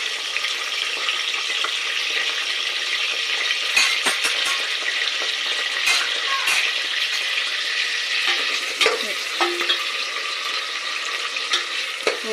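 Green chillies and onions fry in oil and ghee for a moong dal khichdi, a steady close sizzle with occasional stirring clinks throughout, no voices.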